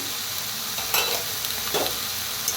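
Peanuts roast in a pan on a village wood-fired stove, a steady dry sizzle with a few louder scraping stirs, close and without talk.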